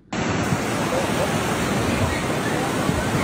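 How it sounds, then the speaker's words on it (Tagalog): Floodwater left by Typhoon Tino rushes through Danao City in Cebu, swallowing the lower parts of houses. It makes a loud, unbroken roar of churning water that starts abruptly and holds steady throughout. "nakunan din ng video ang pagragasa ng tubig baha na nilamo na ang ibabang bahagi ng kabahayan"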